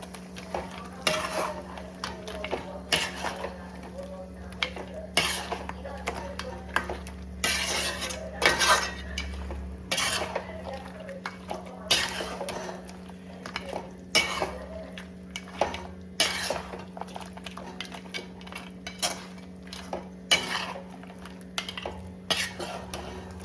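A spoon stirs tomato and masala paste in a pot for mutton biryani. Repeated scraping and clinking strokes come close up over a low, steady background hum.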